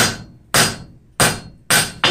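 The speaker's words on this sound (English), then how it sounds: "just give it some good strong hammer blows" Four loud, sharp hammer blows strike steel while forging a decorative knot sculpture's base, spaced unevenly at about half-second to one-second intervals, each ringing briefly before fading.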